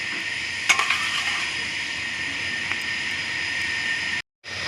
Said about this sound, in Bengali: তো দেখো ঝোলটা ফুটে গেছে, আমি এবার ভেজে রাখা মাছগুলোকে দিয়ে দেবো।